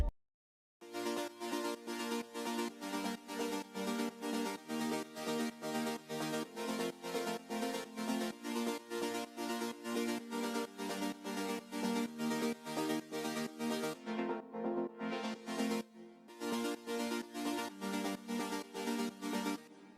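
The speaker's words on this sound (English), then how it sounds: "this is how our chords will sound after processing" Processed progressive house synth chords made in FL Studio pulse in a fast, steady rhythmic pattern with bright, full tones. A short filtered dip comes near the end, then the pattern resumes. Loud and alone, with no voices.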